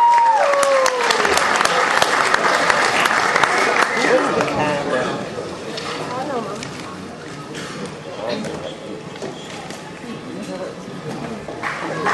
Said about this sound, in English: Give her a big round of applause, last year's figure winner.